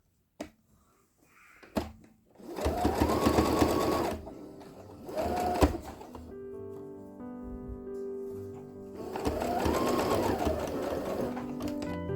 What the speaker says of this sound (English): And I'm going to start sewing the entire way back, sewing down the parts that are still up.